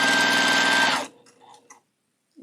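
Juki TL18 sewing machine runs in a fast, steady whir of stitching for about a second, then stops, leaving only a few faint clicks and handling noises.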